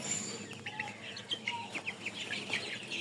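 A flock of 20-day-old tiger chickens, a colour-broiler cross kept for meat, giving soft repeated cheeps and clucks at a moderate distance over a faint steady background.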